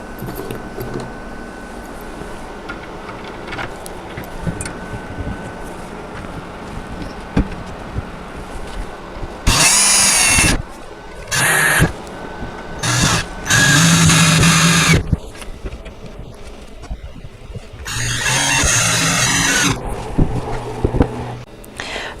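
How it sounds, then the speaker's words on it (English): A power drill drives four screws into a wooden Badger Basket canopy doll bed, several separate whirring bursts of a few seconds each standing out loud and close against a quiet room. "I'm going to put all 4 screws into place"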